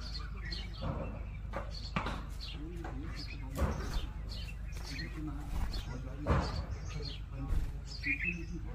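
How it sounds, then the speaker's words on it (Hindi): Small birds perched in a tree in a hill area chirp and tweet intermittently outdoors, with scattered clicks and thumps and a murmuring voice underneath. "देखिए दोस्तों फिर आ चुकी हैं कुछ चिड़ियाँ और इस पेड़ पे बैठी हुई हैं।"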